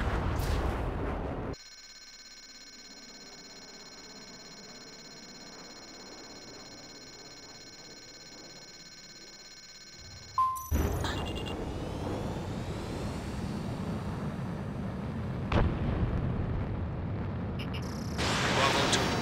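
Ace Combat 7 jet combat with missile launches and explosions: a sudden burst of roaring blasts after a stretch of quiet electronic tones, followed by a sustained rumbling engine and weapon noise with sharp impacts.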